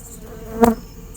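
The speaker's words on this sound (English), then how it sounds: "The bees that you actually see swarming around us right now are not the bees from the hives that we're taking." Honeybees buzzing around beekeepers moving hives at night, a faint steady hum with one bee briefly passing close in a short louder buzz.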